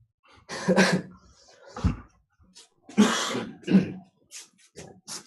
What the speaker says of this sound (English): gotta get rid of this cough